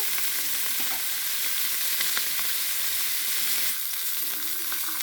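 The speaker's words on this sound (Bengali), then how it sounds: "এখন কলাগুলো আমি কষিয়ে নিব।" A steady, dense hiss comes from plantains frying in a pan, with faint scrapes of stirring scattered through it and a brief dip in the sizzle toward the end.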